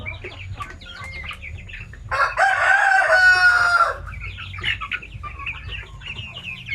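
A native rooster crows loudly and nearby, a long strained call, while native hens cluck softly before and after it.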